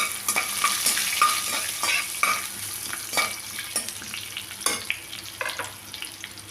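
Fennel seeds fry in hot oil for a crab masala, giving a close, busy sizzle with rapid crackling pops and stirring clatter throughout.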